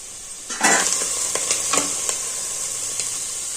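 Ponnaganti leafy greens being stirred as they fry in oil in a pan: a steady hiss of sizzling with a sharp burst of spatter when the spoon goes in, then a few light scraping strokes.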